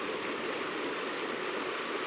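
Alpine mountain stream rushing steadily at close range, a dense, even wash of flowing water with no voices or other sounds.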